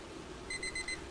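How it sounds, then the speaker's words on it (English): A short electronic timer on a zero-degree scope camera navigation drill gives a few quick high beeps in a row, over a quiet room hum. "I hear that timer that says that I've held it correctly for 5 seconds."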